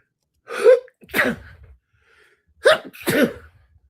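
Two pairs of loud, close sneezes, each a sharp intake followed by an explosive burst, separated by a short pause.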